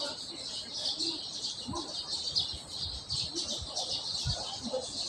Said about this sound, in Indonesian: Masih banyak burung-burung yang berkicau.